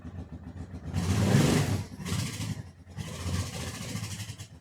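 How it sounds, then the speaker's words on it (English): A 40-year-old motorcycle engine running right after a jump start, close and loud, with uneven throttle blips that rise and dip over a rough idle. "Yep, starts like that every time."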